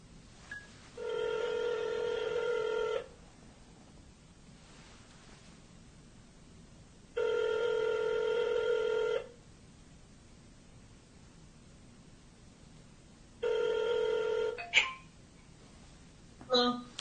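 A telephone ringback tone sounds three times in long, evenly spaced bursts on an outgoing call, each ring lasting about two seconds over quiet line hiss, with a couple of short clicks near the end.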